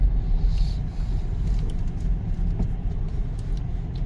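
A car rolls into a shaded parking spot at Wat Thammayan temple, its engine a steady, close low rumble with faint road noise and no talking.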